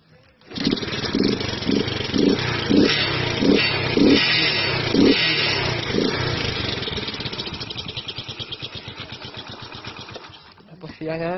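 A Honda Pop motorcycle engine cranks with a series of sputtering, uneven pulses at close range, then catches and settles into a loud, rapid, buzzing putter that slowly eases down.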